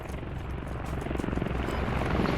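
A helicopter flies overhead in a multiplayer shooter game, its rotor a steady thumping drone that grows slightly louder across the short stretch, with no talk.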